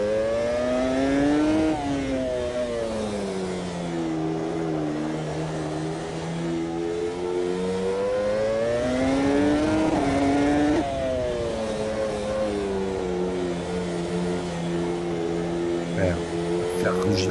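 A race car engine revs on a rain-soaked track, its harmonic pitch sweeping down, then climbing and falling again in long waves, loud and close throughout.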